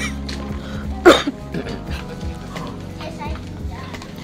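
A person gives a sharp, loud cough followed by a quick second one, amid ongoing chatter and background voices in a store setting.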